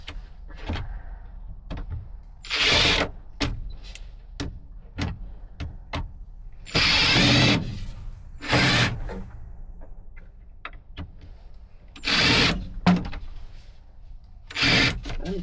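Screws driven into a piece of wood during a Del Rey rebuild, with bursts of power-driver whirring separated by sharp clicks and taps, close and fairly loud.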